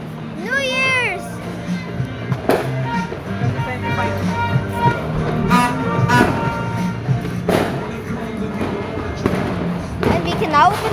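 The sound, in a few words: New Year's fireworks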